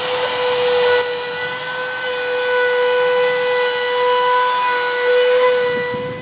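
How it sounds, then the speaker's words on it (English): Trim router fitted with a round-over bit rounding the edges of pergola boards on a deck, a continuous high, steady whine holding close and loud throughout with no voices. "take a trim router, round over bit, and run up and down both sides"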